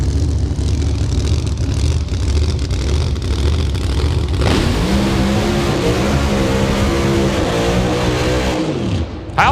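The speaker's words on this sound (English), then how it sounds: "How's that for a burnout, folks?" A 2017 Corvette revs hard during a burnout at a motorsport event, loud and sustained engine roar throughout, shifting to rising and falling harmonic revving midway before cutting off near the end.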